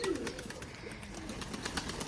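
Domestic pigeons, including a red hen, coo softly and steadily in a loft, the low burbling calls continuing close by without pause.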